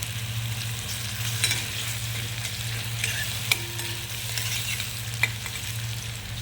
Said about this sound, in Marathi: कांदा थोडा परतू द्यायचा, जास्त लाल पण नाही होऊ द्यायचा.